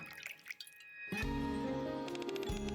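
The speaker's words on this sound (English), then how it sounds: "Mast lifts up a bottle of rum and begins pouring it into a glass." Rum pours from a bottle into a glass in an anime-style game scene, heard as a few faint, quick liquid splashes and drips before music swells in and covers the rest.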